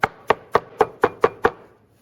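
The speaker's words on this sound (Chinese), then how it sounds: "马蹄全部压碎之后，我们给它剁成末。" Seven sharp, evenly spaced knife chops on a cutting board as crushed water chestnuts are minced for braised lion's head meatballs, close and crisp with no talking.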